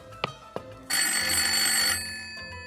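A telephone rings in a TV comedy scene: two brief knocks or clicks come first, then a single loud, bright electronic ring lasting about a second before fading to a quiet hum.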